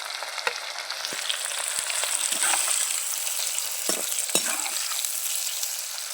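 Kashmiri fish frying in a pan with a loud, continuous close sizzle and occasional sharp spoon clicks and stirs over it, no voices.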